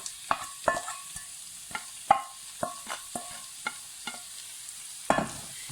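Fresh shredded cabbage and carrot tossed into a pan with lightly browned onion, sizzling softly while a utensil stirs and scrapes in a string of irregular clinks and taps, fairly close and quiet.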